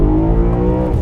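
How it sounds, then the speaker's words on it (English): A BMW E92 M3 in Japan Red with freshly replaced rod bearings, its engine revving hard toward the red line, a loud, close, sustained mechanical roar with no speech over it. "rev the car out and enjoy the red line without having to worry about the rod bearing spinning"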